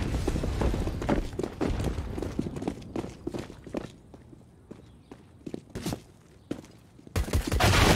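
Desert Eagle pistol fire in a Counter-Strike match on the Inferno map: a string of sharp, loud shots and footstep-like clatter at irregular intervals, thinning to scattered cracks before a dense final burst.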